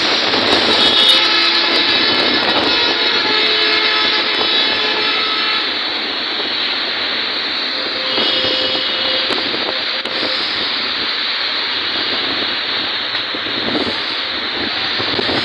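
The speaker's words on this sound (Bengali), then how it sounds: "ঢাকার দিকে ছুটছে গাড়িগুলো" Steady roar of vehicles rushing along the Chittagong Road highway at Siddhirganj, Narayanganj, during a stormy rain, a continuous broadband wash of tyre and engine noise with no pauses and no voices.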